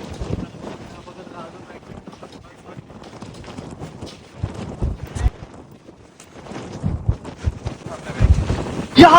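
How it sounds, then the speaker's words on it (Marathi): Strong outdoor wind buffets the microphone during a rap music video shoot. The rumbling gusts rise and fall, growing louder toward the end, with voices partly buried beneath them. "यहाँ पे इतनी हवा चल रही है कि कुछ संभालना यहाँ पे मुमकिन नहीं है"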